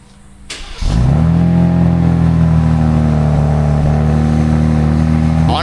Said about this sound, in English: let's go ahead and get one last cold start on how it is stock with the stock exhaust on the Ram